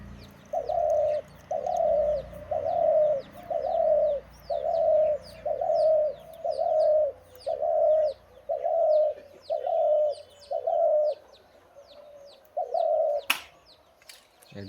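A tame dove coos in a steady series of about eleven rounded, evenly spaced calls, close and loud, with a brief pause near the end and faint chirps from other birds in the background.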